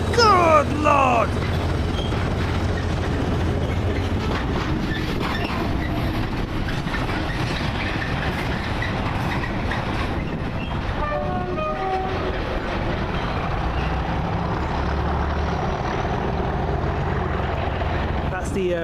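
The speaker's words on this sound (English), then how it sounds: "The Bridgewater to Crewe Flask train" A freight flask train departing Bristol Temple Meads station rumbles and clatters steadily past at close range, with a short horn-like tone partway through and voices faintly under the noise.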